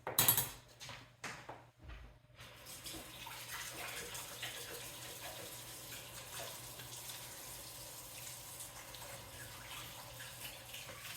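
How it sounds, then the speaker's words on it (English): A kitchen tap runs while hands are washed beneath it, opening with a few clattering knocks and splashes, then settling into a steady, moderately quiet stream of running water. "I'm gonna wash my hands."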